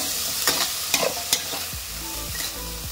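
Cabbage and sweet corn being stir-fried in a pan for a burrito bowl filling: close, steady sizzling with sharp scraping strokes of a spatula every half second or so, no voices.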